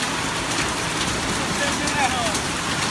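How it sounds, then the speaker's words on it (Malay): Dense, steady patter of hail striking surfaces in Tangse, Pidie, Aceh, with a voice calling out briefly in Indonesian over the clatter. "Hujan es, hujan es. Banyak es ah."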